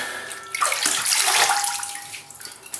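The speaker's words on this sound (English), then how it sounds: "I'm washing the razor off" Water from a tap gushes and splashes as a razor is rinsed, swelling to a fuller rush in the middle and tapering off into a lighter trickle.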